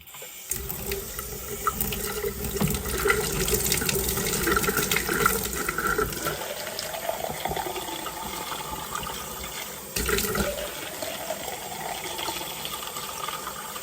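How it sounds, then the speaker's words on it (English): Water poured into cups holding plant cuttings, a steady close splashing and filling stream lasting several seconds, with a brief break and a restart, no talk. "let's go ahead and add some water"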